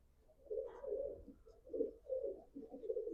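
Low, throaty pigeon cooing repeats in soft rolling phrases, close by and fairly quiet, with no talking.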